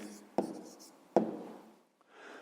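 Pen strokes scratch on paper while a math answer is written out, two sharp taps each trailing into soft scribbling, then a quiet rustle at the end.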